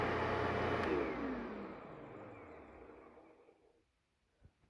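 A Hoover Whole House Rewind upright vacuum cleaner motor whirs, then winds down, its pitch sliding lower as it fades to near silence, with a soft thump at the end.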